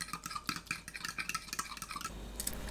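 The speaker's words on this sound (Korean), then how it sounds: "계란 4개, 고운 소금 3분의 1 큰술, 미림 2큰술 넣고 계란을 풀어주세요." Four eggs with fine salt and mirin are beaten in a bowl. Quick, rhythmic clicking taps and scrapes repeat close up and fairly faint, then ease into a softer rustle near the end, with no talking.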